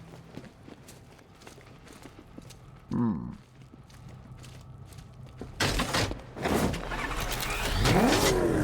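Batmobile from the video game Batman: Arkham Knight rumbling and accelerating through a tunnel, engine noise building to loud bursts and revving in the second half, with a short voice passage partway through.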